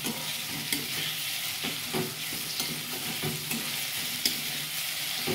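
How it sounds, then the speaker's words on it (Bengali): Garlic paste frying in a pan and stirred for mutton kosha, a steady close sizzle under soft scraping spoon strokes at an irregular rhythm, no voices. "রসুনটাকে একটুখানি ভালো করে নেড়ে নেব, তাতে কাঁচা গন্ধটা চলে যায়।"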